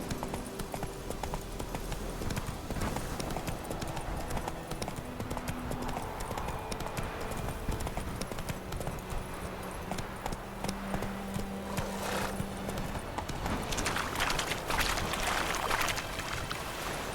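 Roach, a horse in The Witcher 3, gallops with a rapid, continuous clip-clop of hooves, loud and close, mixed with rushing ambient game sound throughout.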